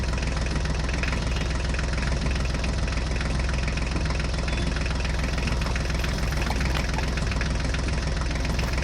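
A toy Swaraj tractor engine runs steadily, giving a constant loud, buzzy rumble that does not change or pause throughout, with no voices.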